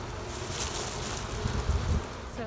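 Low, steady buzzing of a mass of queenless honey bees, close by, with a faint wind-like hiss over it and no talking.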